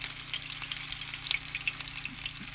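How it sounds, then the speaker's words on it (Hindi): Stuffed bitter gourd (karela) filled with masala fries in oil in a kadhai, giving a steady, moderately quiet sizzle with scattered small pops and crackles, no voices. "सिर्फ हम इसे सेकेंगे तेल में"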